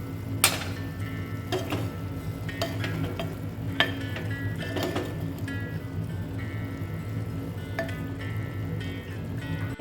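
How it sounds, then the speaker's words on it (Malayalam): Stirring drumstick curry after turmeric powder and salt go in: a steady low simmering bubble runs underneath, broken by a few sharp spoon-against-pot clinks and scraping sounds, with no voices. "ഞാൻ അതിലേക്കിപ്പോൾ മഞ്ഞൾപ്പൊടിയും ഉപ്പും കൂടി ഇട്ട് ഇളക്കി അടച്ച് വെക്കുന്നുണ്ട്"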